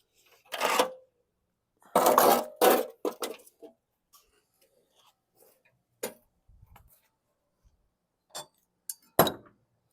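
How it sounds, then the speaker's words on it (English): Metal bolts clink and tap as they are refitted to the underside of a 2017 Hyper Tough lawn mower deck: scattered close, sharp metallic knocks with quiet gaps, and a few louder clusters near the start and end. "I'll reattach the bolts to the underside."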